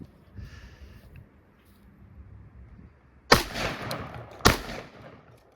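Two loud sharp gunshots from a TX22 FRT rifle firing incendiary rounds with the suppressor removed, each crack followed by a brief ringing decay, after a quiet stretch of faint background noise.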